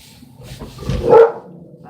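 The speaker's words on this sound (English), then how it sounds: "There goes the doggies." A single short dog bark rises out of a quiet room background and fades quickly, with no talk around it.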